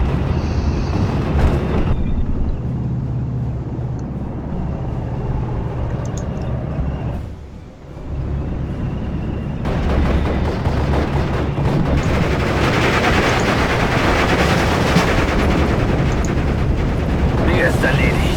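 Artillery fire and explosions from the WWII strategy game Steel Division form a dense, continuous wall of booming battle noise, with a brief dip midway, while voices speak in German over the action.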